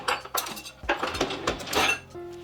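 A knife and a small spoon clink and rattle against each other and a hard surface in a kitchen, several quick metallic taps close up.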